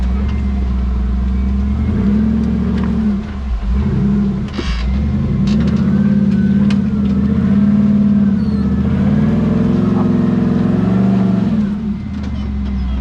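A high-revving LS-powered vehicle engine at a weekend memorial event roars loud and close, a deep throaty rumble rising and falling through repeated revs with no talking.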